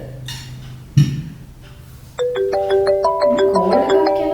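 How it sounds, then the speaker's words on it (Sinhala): A mobile phone rings for an incoming call: a loud, bright, repeating electronic melody begins after a couple of soft knocks and clatters and keeps playing to the end. "කෝල් එකක් එනවා"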